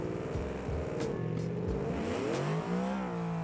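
A video game car engine in BeamNG revs up and down repeatedly with a rising and falling whine, loud and close, like a car sitting idle while the throttle is blipped.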